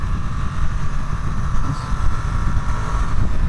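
A loud, steady engine drone with a low rumble and a sustained higher whine from a Ducati Streetfighter V2 motorcycle running hard at high revs, with no talking.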